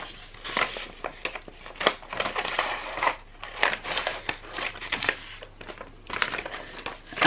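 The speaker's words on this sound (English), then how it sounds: "I'm going to cut down here and trim it off." Scissors cut and trim a paper sewing pattern up close, producing repeated crisp snips with rustling and crinkling paper between them.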